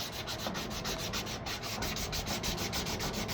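Harbor Freight sandpaper rubbed back and forth in a fast, steady rhythm, a close, continuous scratchy sanding sound with no one talking.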